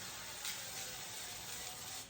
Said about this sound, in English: I'm gonna spray it with some avocado oil.